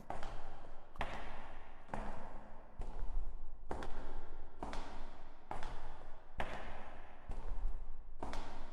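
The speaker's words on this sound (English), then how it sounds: "I think my footsteps are actually successfully getting more annoying." Footsteps in dark underground tunnels in the video game Between the Rooms, a steady run of heavy, booming thuds about once a second, loud and close with no voices over them.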